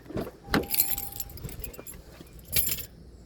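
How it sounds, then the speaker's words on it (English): A set of keys jangles and clinks in short bursts as it is stowed away inside a car, with two distinct rattling moments separated by quieter shuffling, close by and with no talking. "I don't even need my keys, I'm gonna put them in here."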